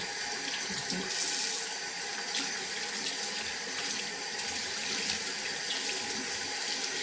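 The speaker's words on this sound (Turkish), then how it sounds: "Getirdim fitremizi hemen yıkayacağız. Bu HEPA fitre yıkanabilir." Tap water runs steadily and close over a vacuum cleaner HEPA filter being rinsed in a sink, a continuous splashing hiss with slight shifts as the filter moves under the stream.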